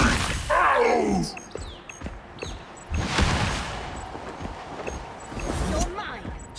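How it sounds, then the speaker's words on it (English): Bursts of gunfire from an advanced assault cannon in the Marvel Rivals video game, several loud blasts scattered across a busy battle mix with game voices talking over them. "Some sort of advanced assault cannon."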